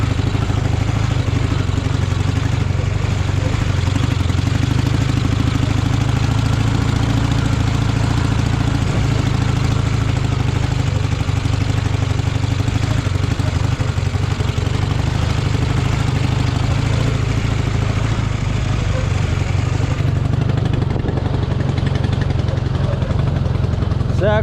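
Several ATVs and a Dnepr MT-11 motorcycle rumble steadily off-road through countryside, a continuous loud mid-pitched engine drone with no pauses.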